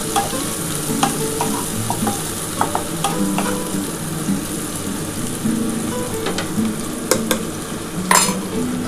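Mutton pieces tipped into a pan of lightly browned onions for an aloo mutton curry, frying with a steady loud sizzle while a utensil scrapes and stirs, with intermittent clinks against the pan throughout.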